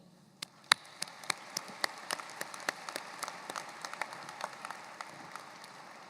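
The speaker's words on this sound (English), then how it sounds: "Let's give another round of applause to your parents, friends, loved ones, teachers, staff" Scattered, quiet applause at a high school graduation ceremony: individual claps ring out unevenly and thin out over several seconds, sounding sparse and somewhat distant.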